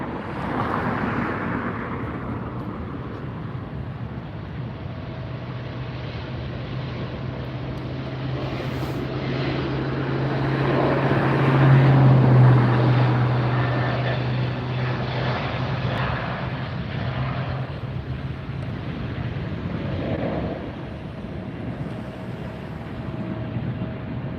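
An Airbus A380 superjumbo rolls down the runway at LAX, a distant jet rumble that swells to a peak midway and then fades, with a low steady roar throughout.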